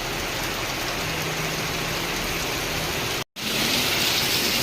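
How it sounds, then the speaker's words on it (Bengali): Heavy rain comes down hard, a loud, dense, unbroken roar of drops nearby that briefly cuts out and then resumes even stronger, with no one talking. "এখানেও কি জোরে বৃষ্টি হচ্ছে"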